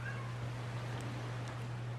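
A cat meows in The Last of Us Part II video game, a brief faint call heard over a steady low hum and background ambience, with no talking.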